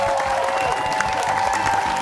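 Applause and cheering from a high school quiz show audience welcoming the Lexington team, steady crowd noise filling the whole moment with a faint tonal hum beneath.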